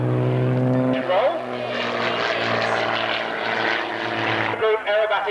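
Several propeller planes of an aerobatic display team roar past at the 1996 Middle Wallop air show, loud and steady, with engine pitch sliding downward and shifting as they pass; a voice talks over the noise.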